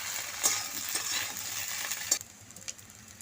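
Vegetables fry in a pan as ginger paste is stirred in, loud close sizzling with spoon scrapes, then the hiss drops away after a few seconds.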